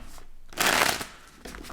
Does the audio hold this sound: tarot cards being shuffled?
yes